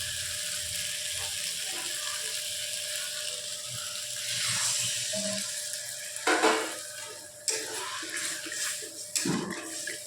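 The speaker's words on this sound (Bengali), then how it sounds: "মশলার সাথে ভালোভাবে মিশে গেলেই দিয়ে দেব খুব অল্প সামান্য পরিমাণ একটু জল।" A little water poured into a frying mixture of potatoes and spices for aloo posto, a steady sizzle rising into louder bursts of splashing hiss as the water hits the hot pan, close by.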